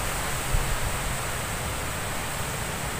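Strong wind roaring through trees near a garden house, a dense continuous rushing noise with slight gusting swells, loud and close, no voices.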